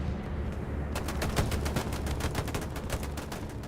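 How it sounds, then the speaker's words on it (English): Dense bursts of gunfire and blasts roll through a shooter video game bombing run, with repeated sharp impacts from about one second onward over a loud, steady rumble. "That sounds like a bombing run to me."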